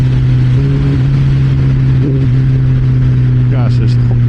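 Kawasaki Ninja ZX-14R motorcycle engine droning loud and steady at a low hum, with a short rise in pitch near the end as the throttle is opened, heavy wind rumble throughout.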